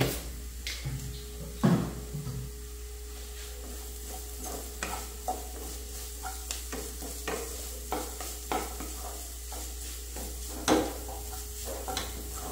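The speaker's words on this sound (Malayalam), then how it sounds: "അതുവരെ നമുക്കിത് ഇളക്കി കൊടുക്കാം" A spoon scrapes through banana flower stir-fry in a pan in steady, irregular strokes. A soft sizzle runs underneath and a low hum persists throughout, with no voices.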